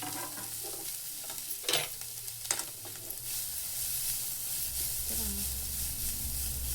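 Grated carrot for halwa frying in a pan with a steady soft sizzle. Two sharp spoon clanks from stirring come early on, then the hiss continues evenly, close by.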